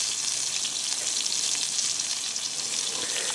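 Steak sizzles on a camp stove outdoors in a forest campsite, a close, even, continuous hiss and crackle with no talking over it.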